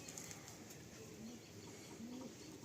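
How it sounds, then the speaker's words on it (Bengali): A female pigeon in a loft gives two soft, low coos against a faint, steady background hum. "এটা মাদি পায়রা"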